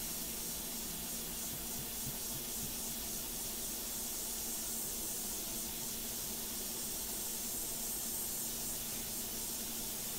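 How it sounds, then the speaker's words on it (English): A Badger Extreme Patriot Arrow airbrush with a modified trigger sprays steadily, a continuous close airy hiss that holds level throughout with no talking. "And the airbrush is the Patriot, the Extreme Patriot Arrow by Badger."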